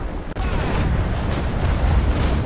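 Thunderous, continuous roar of cannon fire from a sailing warship in the Naval Action game, a dense broadband rumble with one brief dip, loud and sustained throughout.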